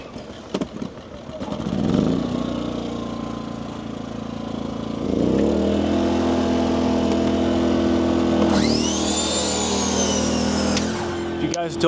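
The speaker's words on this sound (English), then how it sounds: "turn the generator on" A small portable generator on a detailing job in a commercial area of Hialeah, Miami, cranked with a few rattling pulls, then catching and settling into a steady, close engine hum, with a higher whine near the end.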